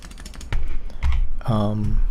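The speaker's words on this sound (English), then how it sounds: "I'm gonna have to rethink my opinion on the Huntsman V2 red silent switch" Fingers type on Razer Huntsman V2 keyboard switches in a few quick clusters of clicks. Someone talks over the keystrokes.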